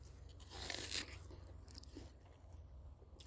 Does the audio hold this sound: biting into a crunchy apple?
yes